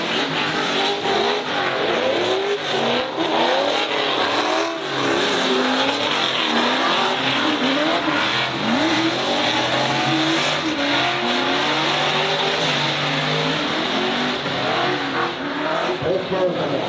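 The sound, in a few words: drift cars racing on a lap, including a Corvette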